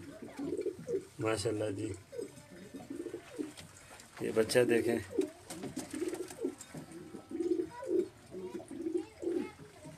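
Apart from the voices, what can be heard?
flying pigeons cooing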